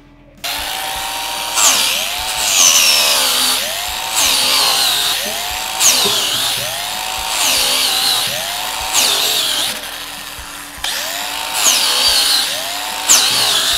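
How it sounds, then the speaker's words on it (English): A loud power tool grinds steadily at close range, its pitch dipping and rising in a repeating up-and-down rhythm as it cuts through a nylon tactical vest. "I will be using this power tool, going here, up and down"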